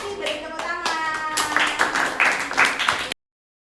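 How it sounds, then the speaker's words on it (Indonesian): Classroom applause from students during an arts and culture lesson after a class presentation, a short burst of clapping hands mixed with children's voices talking over it. "beri tepuk tangan"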